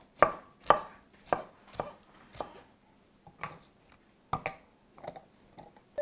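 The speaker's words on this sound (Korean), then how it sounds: "파프리카를 이렇게 썰어줘요" A knife chops a red bell pepper on a cutting board, with about a dozen sharp, evenly spaced thuds and a couple of pauses between bursts.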